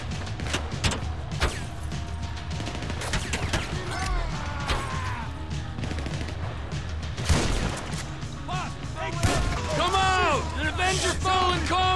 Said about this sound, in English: I'm really good with the shotgun in this game, apparently.